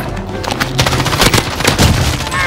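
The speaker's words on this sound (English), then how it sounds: "RPG" Loud, dense burst of gunfire and booming blasts in a Warzone match as an RPG rocket launcher is fired, with several sharp reports crowding together over about two and a half seconds.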